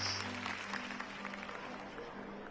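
Steady applause with crowd noise in a video game, Batman: The Telltale Series, filling the whole stretch over a low background hum.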